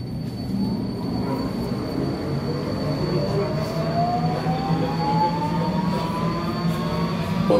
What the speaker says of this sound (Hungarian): This is Metro Line M2 to Déli pályaudvar.